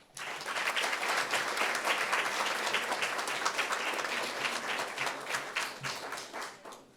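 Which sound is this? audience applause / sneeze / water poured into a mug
audience applause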